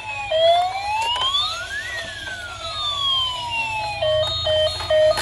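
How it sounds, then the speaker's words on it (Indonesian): A toy ambulance siren wails with rising and falling electronic sweeps, then switches to a quick stepped two-tone pattern, loud and close. "Wih, ambulans helikopter dan ambulans rumah sakit."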